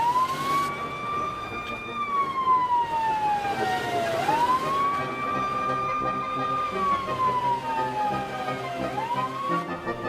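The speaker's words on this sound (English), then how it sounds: "They turn on the lights and sirens so everyone on the road can pull over" Fire truck siren wailing in long rising and falling sweeps, loud and continuous over road traffic noise, repeating its slow up-and-down cycle twice.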